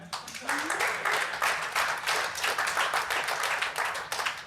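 A comedy show crowd breaks into dense, sustained clapping that starts loud and carries on evenly for several seconds, with a brief cheer at the start.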